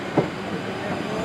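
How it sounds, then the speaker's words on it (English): A Class 458 train departs Clapham Junction with wheels flanging, heard as a steady, close rumble with one brief knock near the start. "So 458531 departing, and that will be the final train of this video."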